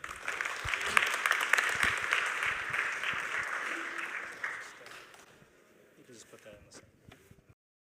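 A conference audience at Pragma Prague 2025 applauds as a speaker comes on stage for a fireside chat. The dense, steady clapping lasts about four seconds, then thins and fades out, with some talk near the end.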